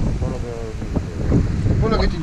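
Wind buffets a microphone in steady rumbling gusts during motorcycle riding practice on a single track, with faint voices breaking through intermittently.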